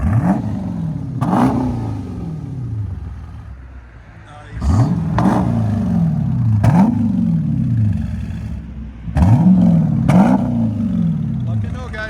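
A 2021 Dodge Durango R/T with a 5.7L HEMI V8 and bottle resonators revs loudly three times, each rise falling back to a deep rumbling idle, heard close up outside the vehicle.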